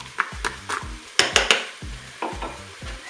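Fish pieces stirred in a Cookeo electric pressure cooker pot during browning, a regular series of spoon scrapes and knocks against the pot over a soft sizzle, close and unaccompanied by voices.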